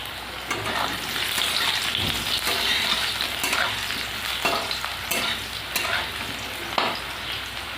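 Potatoes fry in hot oil with cumin in a kadai wok, giving a dense, continuous crackling sizzle broken by repeated scraping strokes of a spatula as they are stirred; no voices.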